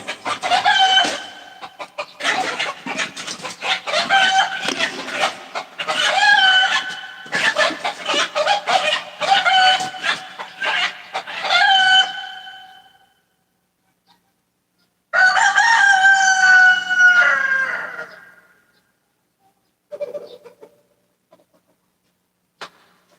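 A rooster crows and clucks loudly at close range, with a long run of repeated calls, a brief gap, another crow, then a few faint clucks as it fades.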